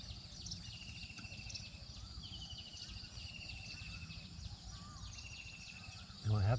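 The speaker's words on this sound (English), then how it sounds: "No, I haven't heard that bird before" A bird calls repeatedly outdoors in Thailand, thin high trilling phrases recurring over a bed of insect buzz and rustle, with a short burst of voice at the very end.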